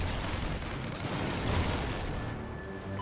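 A frag grenade blast in Call of Duty Ghosts on the Free Fall map, a dense rumbling explosion that swells and slowly decays over a few seconds, moderately loud with no voices.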